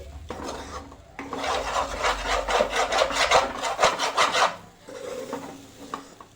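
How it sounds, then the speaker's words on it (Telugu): Coconut and jaggery laddu mixture stirred in a pan, a dry rubbing, scraping sound of the spoon working the grainy mixture in quick repeated strokes for several seconds, then easing off, close and alone. "మనం కలపకపోతే కింద అడగంటుతుందండి, సో కలుపుతూనే ఉండాలి"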